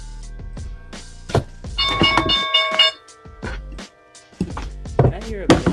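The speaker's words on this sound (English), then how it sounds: "The market open bell? Yeah, I got that on my phone." A market open bell alert rings from a phone, a bright chiming tone that sounds for about a second amid scattered tapping and handling noises.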